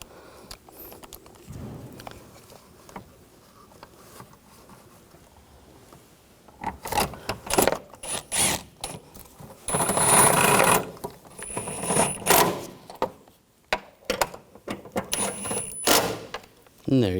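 Bolts on the air intake hose of a 2012-2015 Honda Civic are run in and tightened, bursts of ratcheting clicks and metallic rattles that come close and fairly loud in the second half, after quieter handling.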